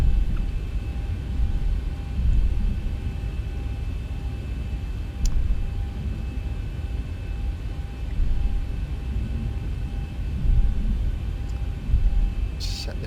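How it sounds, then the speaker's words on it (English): A Zibo 737-800 jet taxiing onto the runway in a flight simulator, a steady low engine rumble and hiss with gentle periodic swells, moderately quiet and continuous, with a couple of faint clicks. "we'll taxi onto the runway now."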